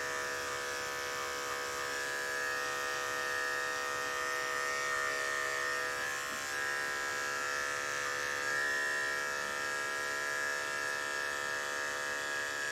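Electric dog grooming clippers running on a mini doodle, a continuous steady high-pitched buzzing drone that stays close and even throughout, with no talk.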